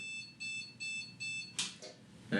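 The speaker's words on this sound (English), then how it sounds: "so I don't know what that beep is." A desktop PC with a newly fitted Noctua NH-D15 cooler beeps on power-on, four evenly spaced electronic beeps, followed by some handling clatter nearby.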